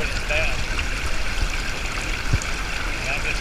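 Water pours steadily into a creek during gold prospecting, a continuous near trickling and splashing over running stream noise.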